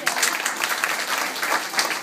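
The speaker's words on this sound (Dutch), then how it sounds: "Applaus!" Lively applause from an audience at a school fashion show, a dense continuous patter of clapping hands with faint voices mixed in.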